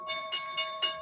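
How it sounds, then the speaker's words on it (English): A stock market closing bell on the final trading day of the year rings in four quick, evenly spaced metallic strikes with a steady tone, faint and somewhat distant. "There's the bell."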